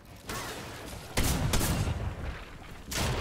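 Rapid gunfire bursts from a Fortnite duo cup match, loud and close, with several volleys in quick succession and sharp bursts near the start and end.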